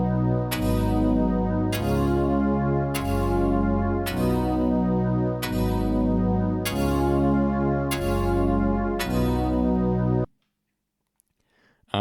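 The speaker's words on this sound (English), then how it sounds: "there's this percussive stab layered with the pad, and it's based on a clavinet patch from the Wavestation." A Korg Wavestation percussive stab built on a clavinet patch from two Prophet VS waveforms, layered with a pad, hits in a steady repeating rhythm of chord stabs over a sustained bed for about ten seconds, then stops.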